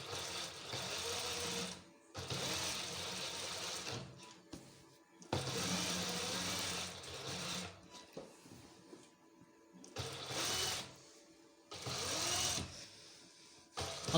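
A sewing machine stitching a double seam along the armhole of an Ajrak-print waistcoat: several steady whirring runs of rapid needle stitching, each lasting a few seconds, separated by brief pauses, close and clear.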